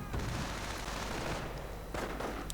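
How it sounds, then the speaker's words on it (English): MG42 machine guns fired by Grenadiers in the real-time strategy game Company of Heroes, a loud continuous stream of rapid automatic fire with battle noise around it and no speech. "Are those Grenadiers with MG42 opening up on those dastardly Americans?"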